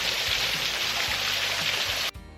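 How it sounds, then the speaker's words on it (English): A waterfall pours in a steady, close, full rush while someone bathes in it, with low thumps underneath before the sound cuts off abruptly near the end. "Matthew having a bath in the waterfall."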